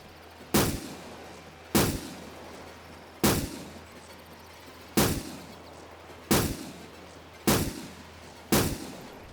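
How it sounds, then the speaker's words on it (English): Deck gun fire from a U-boat shelling Aruba in the submarine game UBOAT: seven loud, evenly spaced booming shots, each ringing out in a short decaying tail over a low engine drone. "shoot as much as we can on land before we have to leave"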